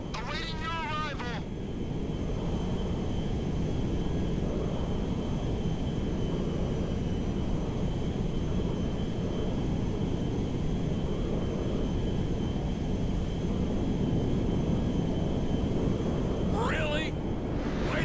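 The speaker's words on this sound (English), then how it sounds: "We are now landing at Mackenzie Field." A cargo jet landing in the video game Grand Theft Auto V produces a steady, loud engine and air roar that holds for the whole stretch, with brief voices at the start and end.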